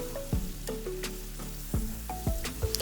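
Tomato paste frying in a pan, a faint steady sizzle with intermittent clinks and scrapes of a spoon stirring, close but quiet, no talk.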